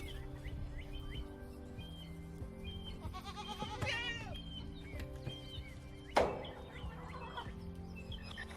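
Goats on a farm bleat a few times during a morning feeding, moderately close, over steady background noise with birds chirping and one sharp clank partway through.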